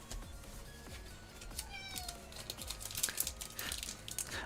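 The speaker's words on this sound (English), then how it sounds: "there's a cat in my room and she's meowing" A cat meows several times in a room, its calls standing out against a quiet background of faint clicking and rustling.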